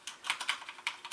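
Typing on a Corsair Strafe RGB mechanical keyboard with Cherry MX Brown switches: about eight soft, close keystrokes in a quick, uneven rhythm, fairly quiet and without a sharp click, alone with no talking.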